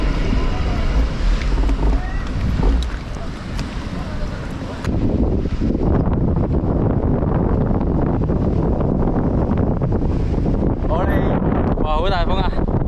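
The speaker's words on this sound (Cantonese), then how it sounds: "好大風啊！" Strong wind roars steadily over the microphone on an outdoor checkpoint stop during a Seoul–Busan–Seoul 1000 km cycling brevet in Korea. The gusts are loud and constant throughout.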